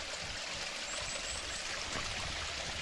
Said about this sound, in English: This is a full-on waterfall.